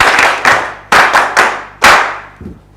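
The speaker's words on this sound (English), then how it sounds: "So a big clap for them also." Audience members at a military mission gathering of public information officers give a round of sharp, loud, close claps, a few separate smacks in an uneven beat, each ringing out briefly before the next.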